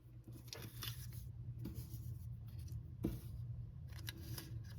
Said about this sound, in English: I'm just kind of pressing, kind of cutting into it with my bone folder